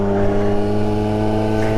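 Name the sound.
1983 Honda Motocompo scooter riding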